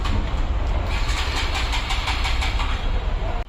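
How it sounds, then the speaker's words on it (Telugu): A motorcycle engine is started and kept running for an inspection at a railway parcel booking counter. It gives a steady, loud, close rumble that lasts the whole time with no pauses. "బండి కూడా స్టార్ట్ చేపిస్తారు చూడడానికి."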